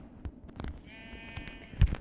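Sheep bleating in a block-building video game, a single short wavering bleat in the middle amid scattered soft clicks and thumps of gameplay.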